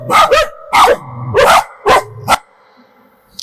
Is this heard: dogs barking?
yes